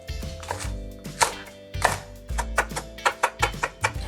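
A kitchen knife minces two cheongyang chili peppers on a cutting board for homemade oiji pickled cucumbers. Close, crisp thuds come in bursts, then settle into a steady, quickening rhythm of chops.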